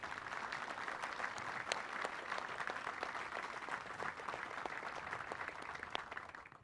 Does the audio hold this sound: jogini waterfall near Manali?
no